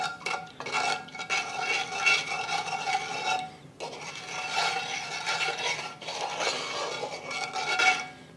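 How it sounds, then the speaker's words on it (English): A spoon scrapes and stirs sugar around the bottom of a pot as it dissolves. It gives a steady gritty rasping and clinking in two long passes with a short break between them, close and alone. "Give this a stir and make sure that that sugar is all dissolved."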